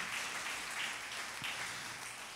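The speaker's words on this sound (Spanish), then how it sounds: "¿quiere dar una ofrenda de aplauso?" Church congregation applauding during a service, steady continuous clapping from many hands at moderate distance, fairly faint and uniform for the whole moment.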